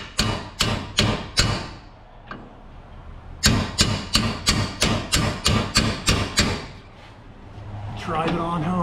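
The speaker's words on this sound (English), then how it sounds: "So I have my brass hammer that I'm going to use" Sharp metallic brass hammer strikes driving in a 2000 Ford Ranger rear spring part: four quick blows, a pause with a faint tap, then a rapid run of about ten evenly spaced hits, with brief talk at the end.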